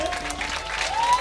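A group of doctors claps together at a protest gathering, a brief continuous patter of hands with faint background tones.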